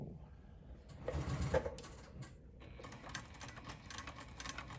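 A sewing machine doing free-motion stitching on fabric, with the fabric moved by hand under the needle; a steady mechanical whir that swells louder around the middle, with no talking over it.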